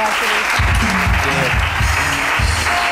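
Studio audience applause at a weekend show, a steady wash of clapping with rhythmic low thumps, loud and continuous throughout.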